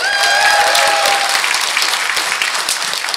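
Fan convention audience applauding and cheering at a Halcon 2016 Q&A, a dense burst of clapping with a few whistles early, steady and loud before slowly thinning.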